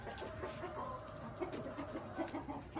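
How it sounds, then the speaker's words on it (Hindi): Black chickens clucking as they eat in a backyard cage, soft repeated clucks and short calls scattered through the moment, fairly quiet and close with no talk. "और वो काले मुर्गे तो कितना ज्यादा खाना खाया कर रहे हैं यार।"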